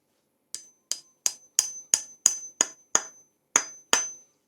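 A wooden wedge driven into the handle of a turned wooden mallet with ten sharp, evenly spaced hammer blows, each a crisp close knock with a brief ring, no talking.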